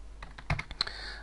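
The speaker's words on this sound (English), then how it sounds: "So I start by typing equals" Quick, light keystrokes on a computer keyboard while a spreadsheet formula is entered, a handful of close clicks in just over a second against a quiet hum.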